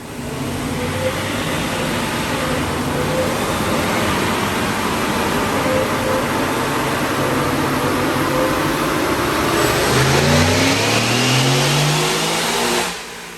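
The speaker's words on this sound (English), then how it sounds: "let's check out this dyno pull" A 2021 Ford F150 Sport 4x4 with a Whipple-supercharged 5.0L V8 makes a wide-open-throttle dyno pull, its engine note climbing steadily in pitch with supercharger whine before cutting off abruptly at the top.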